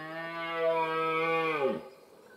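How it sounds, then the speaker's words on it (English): A red stag roars from a hill in Australian hunting country, one long, loud, deep bellowing call that holds steady and then drops off sharply, with quiet, damp surroundings after. "He's roaring up on the hill."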